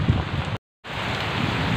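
Heavy rain and strong wind batter an outdoor fishing spot at a lake, a dense roaring wash of rain and gusts that cuts out briefly partway through before resuming just as loud.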